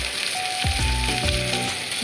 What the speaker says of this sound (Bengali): এরপর আমি ঝিঙেটাকে ভেজে নেব।